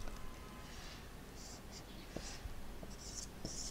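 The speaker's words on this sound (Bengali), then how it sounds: "এরপরে আমরা পরেরটা লিখব" Pen scratching out a percentage math problem on paper, short quiet strokes and faint taps close by, with soft breathy sounds but no clear talking.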